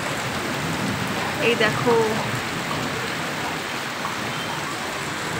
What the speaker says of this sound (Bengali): কিন্তু দেখো কি বৃষ্টি হচ্ছে